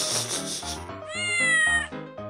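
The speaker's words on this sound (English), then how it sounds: "What do you want, cat?" A cartoon cat in The Incredible Machine 3 video game lets out a drawn-out, wavering meow, loud and close, with game music playing beneath it.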